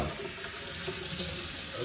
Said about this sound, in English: I'm gonna rinse out the pan